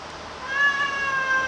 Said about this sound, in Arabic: قطتي عاملة ازعاج